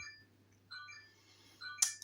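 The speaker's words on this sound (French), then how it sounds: "ça va me perturber le fait d'entendre cette sonnerie" A short electronic ringtone chime sounds indoors in two brief tonal bursts, then a sharper bright beep near the end, each standing out over a faint steady hum.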